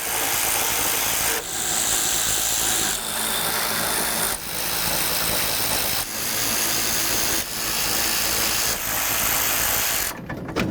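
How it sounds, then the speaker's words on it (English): Power tool whirring in repeated bursts of roughly a second and a half each, loud and close, while nuts holding the window regulator and motor come off inside the door of a 2005-14 Ford Mustang. "start removing the mounting nuts that hold on the window regulator"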